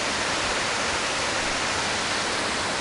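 A mountain stream flows over rocks along the Dockery Lake Trail, giving a steady, loud, close rushing wash of water that does not change over its length.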